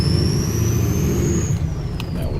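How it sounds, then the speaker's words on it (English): A diesel car engine revs under load while its turbo spools up, a rising high whistle climbing steadily over a thick engine rumble, then dropping off as the revs change, loud and continuous with no talking. "I think you hear that sound of the turbo, and you can hear is that the diesel engine?"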